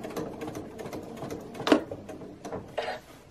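A sewing machine stitching a cloth face mask runs in short bursts of rapid mechanical clatter, close up, with a couple of louder clunks as the fabric is pushed through.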